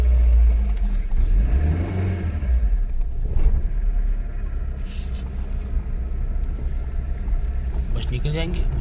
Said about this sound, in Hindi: गाड़ी आ रही है आगे से